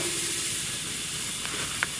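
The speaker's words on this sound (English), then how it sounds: "Alright, it's got some sizzle." Grocery store ribeye steaks sizzling on a Pit Barrel Cooker used as a grill, a steady close hiss of frying meat with a couple of faint pops near the end and no talk.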